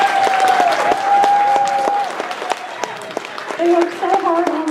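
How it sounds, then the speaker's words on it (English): An audience at the EFNW 2019 convention gives a loud round of clapping and cheering for cosplay contest entrants, with whoops and a voice talking over the applause. "let's get one more round of applause for all of our contestants"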